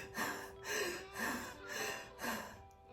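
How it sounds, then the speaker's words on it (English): Deep pranayama breathing: five strong, rhythmic breath cycles of forceful inhales and exhales, close and loud, with no talking. "I'm going to show you a technique that I learned, like 40 years ago on deep breathing"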